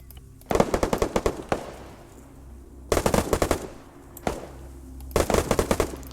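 Video-game gunfire in Arma 3, three loud close bursts of rapid automatic shots, each burst lasting about a second, separated by short pauses with low background ambience.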